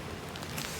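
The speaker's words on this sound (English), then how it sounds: "It was raining even faster, and it turned into a downpour again." Dense, even hiss of heavy rain pouring down, a continuous wash of sound with no voices.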